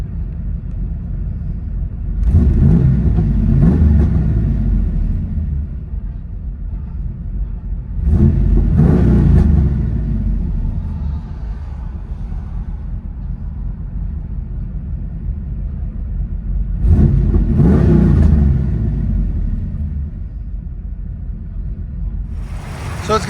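From inside the cabin of a 1995 Camaro Z/28 with a 388 stroker V8, headers and Gibson cat-back exhaust, a low rumbling idle swells into three separate throttle blips that each rise and fall back.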